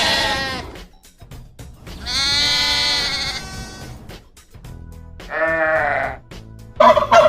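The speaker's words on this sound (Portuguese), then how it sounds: "Ovelha." A sheep bleats in several long, wavering calls separated by short pauses, close and fairly loud with no talking.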